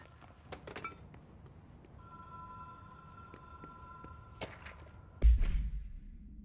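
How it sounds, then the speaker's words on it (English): A phone rings in the Control video game, a faint, steady electronic ringing tone held for about two seconds amid quiet ambience and scattered clicks, followed by a dull thud and shuffling near the end. "Hear the ringing?"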